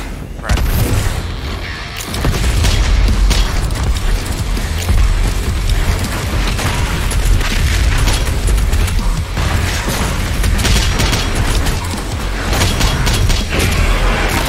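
Grenade explosions and gunfire in the video game Doom Eternal, a dense run of loud booms, mechanical clanks and rapid shots after a brief quieter opening, continuous and harsh throughout.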